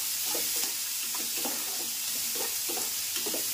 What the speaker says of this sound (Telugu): దీంట్లోనే మనం కట్ చేసి పెట్టుకున్న అల్లం, ఉల్లిపాయలు, పచ్చిమిర్చి కొంచెం దూరంగా వేగనివ్వాలి